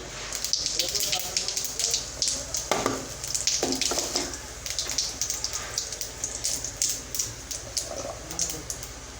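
Cumin seeds crackling and sizzling in hot oil in a pan, the first step of making sabu pulao, a steady spatter of small pops with louder bursts, close by and under occasional talk.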